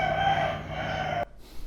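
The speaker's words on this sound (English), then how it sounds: "I bought some roosters." A rooster crows loud and close in one sustained cock-a-doodle-doo that cuts off sharply, leaving brief quiet.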